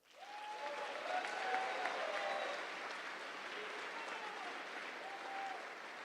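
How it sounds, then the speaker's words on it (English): A crowd applauds at the Academy's Class of 2025 billet night, steady sustained clapping heard at moderate distance for several seconds, with a faint voice briefly audible beneath it. "let's get one more collective round of applause from all those here that are supporting the class of 2025."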